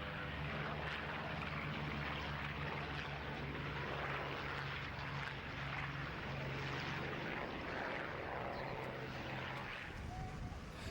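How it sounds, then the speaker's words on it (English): A B-25 Mitchell bomber with tricycle undercarriage lifts off a concrete runway, its piston engines producing a loud, steady propeller roar and drone that holds throughout, with rumble and wind-like broadband noise. "The B-25 Mitchell gets airborne off the concrete runway"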